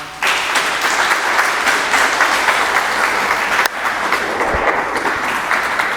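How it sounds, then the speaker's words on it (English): An audience at a Sanman Academy and Tadaima event gives a sustained round of applause, loud and dense clapping that starts abruptly and carries on evenly throughout, with faint voices beneath. "Can we give them another round of applause?"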